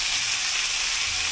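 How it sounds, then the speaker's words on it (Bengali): Fresh greens frying in oil with garlic and onion in a karahi, a dense, steady hiss of sizzling throughout, loud and close. "কড়াইতে তেল দিয়ে দিছি, রসুন দিয়ে দিব কিছু পেঁয়াজ, শাকগুলো দিয়ে দিব"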